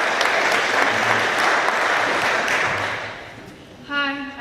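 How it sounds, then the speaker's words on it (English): A Rotary Club weekly meeting audience claps in a dense, steady burst that fills the room for about three seconds and then tapers off, with a voice starting to speak at the end. "you can clap"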